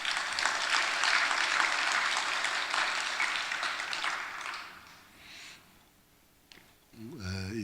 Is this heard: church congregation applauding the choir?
yes